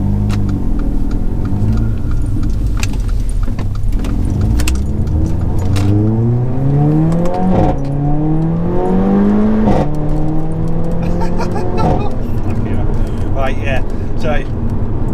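A Mercedes A45 AMG with a fault accelerates along a carriageway, its engine note climbing in repeated rising sweeps between gear changes over steady road rumble, with a voice talking over it.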